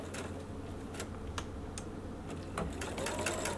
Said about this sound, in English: So I'm just going to back stitch here now.